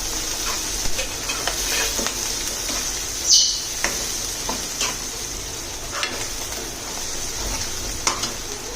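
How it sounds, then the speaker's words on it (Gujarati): Ginger, garlic and chili frying in a pan for a drumstick and potato curry, a steady low sizzle with scattered light stirring clicks and scrapes throughout, and a brief sharper spatter partway through. "હવે આદુ લસણ અને મરચી એ પણ આમાં એડ કરી દઈશું."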